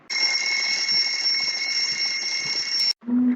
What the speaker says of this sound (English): It is 6 o'clock and the alarm starts ringing.